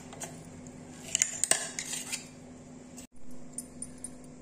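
Spoon clinking and scraping in a bowl, mixing ground green pea paste into besan batter for chilla, with a few bright metallic taps in the middle and a brief break near the end.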